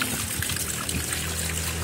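Water spurts up like a fountain with a continuous splashing, trickling rush at a steady, moderate level, with no talk.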